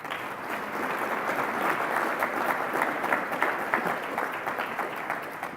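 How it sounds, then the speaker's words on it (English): A conference audience of nurses applauds at a welcome and awards session, producing a steady, even wash of many hands clapping at moderate, fairly distant volume throughout. "So give yourselves a clap"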